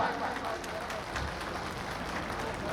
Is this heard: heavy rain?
no